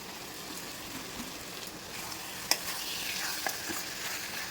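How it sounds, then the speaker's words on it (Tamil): A spoon scrapes and stirs through a thick mixture of powdered jaggery in a pan, with soft sizzling underneath and a couple of sharp knocks. "நல்லா கலந்து விட்டுக்கலாம்"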